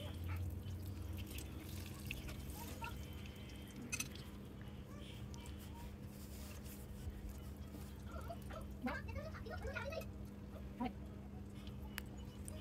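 Batter deep fries in hot oil for an iftar snack, a faint, steady sizzle with scattered small pops and crackles.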